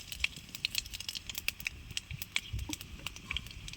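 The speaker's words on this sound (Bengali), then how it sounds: "পাঁচ ফোড়ন দিয়ে দিলাম তেলে" Faint, rapid crackles and pops of panch phoron (five whole spices) spluttering in hot oil, irregular and light, with no talk over them.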